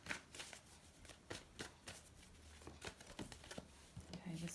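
Tarot cards shuffled by hand for a reading, a steady run of soft riffling flutters and papery slaps close to the listener, quiet throughout with no talk.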